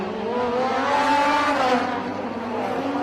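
Race car number 89 at the Bangsaen Grand Prix, heard from inside the cockpit, its engine screaming at high revs with rising and falling pitch, loud and continuous with no talk.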